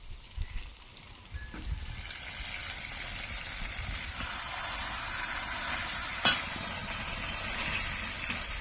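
Chicken leg pieces going into a hot frying pan for chicken kosha give a steady, close sizzle with stirring noise and a couple of sharp clicks, no talking.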